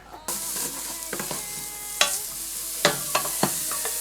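Chopped onion sizzling in melted butter in a pan, a steady frying hiss broken by a few sharp scrapes and stirring knocks, close and fairly loud, with no talking.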